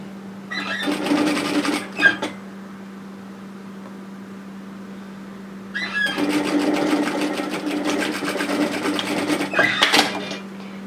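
A sewing machine stitches a bomber jacket seam from the notch down to the hem in two bursts of rapid, even motor whirring, separated by a pause in which a steady low hum continues.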